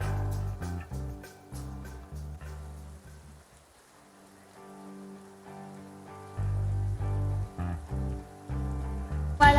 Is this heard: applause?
no